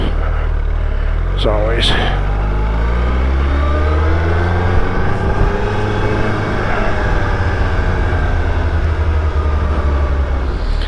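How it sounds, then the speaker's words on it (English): A Suzuki Hayabusa motorcycle rides on a gravel road, its engine a steady low drone with rising and falling pitch as the rider throttles along, close and continuous, while someone talks briefly. "Hayabusa in the gravel is always fun."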